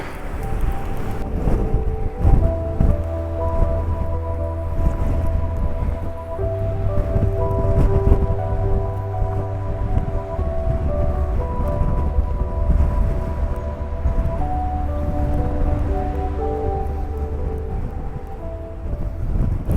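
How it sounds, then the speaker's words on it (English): Strong wind buffets the microphone with continuous rumbling gusts outdoors on a waterfall walk in the Angus Glens, Scotland, and a steady low engine-like hum runs beneath it. "it's just surprisingly windy"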